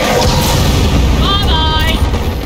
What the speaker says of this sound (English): Missiles are away.